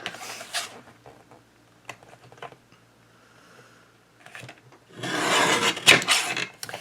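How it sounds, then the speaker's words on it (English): Scissors cutting the front off a recycled Christmas card, with scattered snips and paper rustles followed by a longer, louder burst of crisp cutting and card handling near the end. "I'm going to cut the front of this card off."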